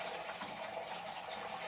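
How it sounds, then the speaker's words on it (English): Water runs steadily into a cooking pot for lentils, a continuous close gushing pour with no pauses and no voices over it. "get some water in the pot for our lentils"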